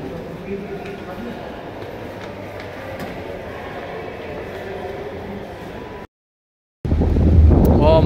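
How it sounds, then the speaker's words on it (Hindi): Strong wind buffets the microphone outdoors at a charity race event, a constant heavy rushing roar. It stops abruptly for a moment, then returns louder. "हवा चल रही है बहुत तेज"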